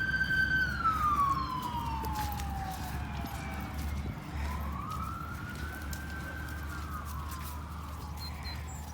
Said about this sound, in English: Sorry about the sirens there.